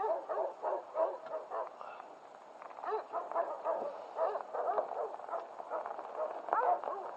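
Dogs bark in a quick, irregular series of yips and woofs outdoors in the snow, moderately close, with a few whimpering notes between the barks.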